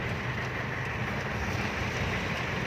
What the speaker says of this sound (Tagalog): Oh, lakas ng ulan.